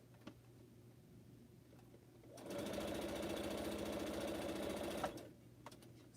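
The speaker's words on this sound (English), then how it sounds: "after I sew my series of 6 seams" A sewing machine runs at steady speed for about three seconds, chain piecing seams on pineapple quilt blocks, a close, even whirring stitch rhythm that starts and stops abruptly amid quiet room tone.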